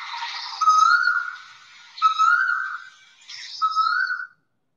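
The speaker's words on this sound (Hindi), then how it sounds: "कोयल।" Asian koel calling, three clear rising whistled notes spaced about a second apart, each swelling and then breaking off, loud and close with nothing else over them.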